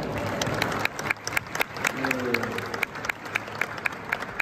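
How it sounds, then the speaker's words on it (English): An audience applauds at a horsemanship demonstration at an equestrian show. Claps are scattered and fairly close, with a mix of single sharp claps and steady crowd clapping, and some voices murmur underneath. "Let's give a nice applause"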